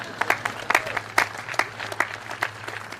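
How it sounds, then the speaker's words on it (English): Light, scattered clapping from a modest audience at the Dakota College Old Main ribbon-cutting ceremony, a few distinct claps standing out over a low steady hum, moderately close and fairly brief. "you can clap if you want, sure, why not?"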